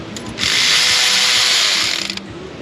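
A ratchet tightens a bolt on the intake of a 2020 Chevrolet Silverado with a 6.6 L L5P Duramax, one fast burst of close, loud buzzing clicks lasting under two seconds.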